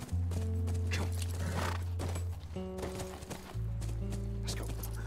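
Horse hooves clip-clopping and a horse neighing in The Last of Us video game, close and clear over a steady low musical drone, with the whinny rising midway.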